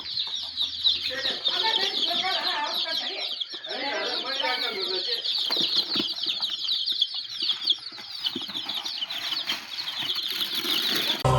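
Chickens cluck loudly and flap their wings up close, a busy stretch of repeated cackling calls and flurried wingbeats filling the whole span, with some rural background noise.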